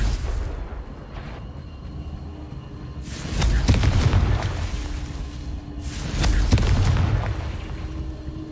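In Hogwarts Legacy, a Confringo explosion spell goes off twice about three seconds apart. Each is a deep, rolling boom with a crackling burst that swells and fades over a low ambient bed, moderately loud, with no voices.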